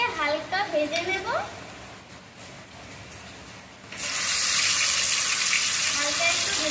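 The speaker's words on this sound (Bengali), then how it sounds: "এখন আমি মাছগুলোকে হালকা ভেজে নেব।" Hilsa fish pieces slid into hot oil for a light fry: a person speaks first, a quiet lull follows, then a loud, dense, steady sizzle bursts in and continues.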